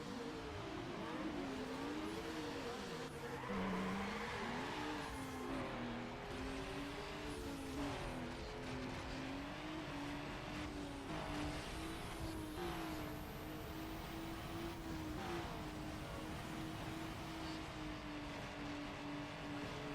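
Drag racing in the Need For Speed Underground video game: a car engine revs and climbs through gears with wavering pitch, loud and continuous, plus brief tire skids, with no talking over it.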